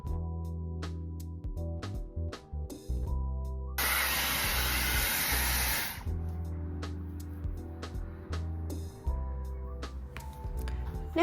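A Dyson hair dryer blows in a loud, steady airy hiss for a couple of seconds amid soft handling clicks and rustles, close by.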